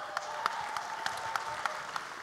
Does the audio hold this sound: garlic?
no